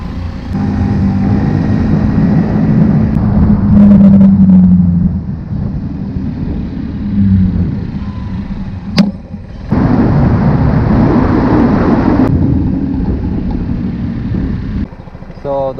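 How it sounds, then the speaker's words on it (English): A Honda Ruckus scooter riding along wet back streets in Miami Beach, its engine drone steady and close, with road and tire noise throughout and a brief dip in the middle before the ride noise resumes. "So the scooter does very well in the back streets."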